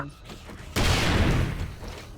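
Burst of gunfire in the zombie survival game 7 Days to Die, loud and sustained for over a second before tailing off, with no talk during it.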